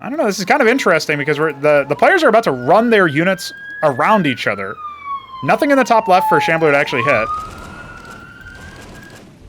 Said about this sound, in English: as you may be able to hear the siren in the background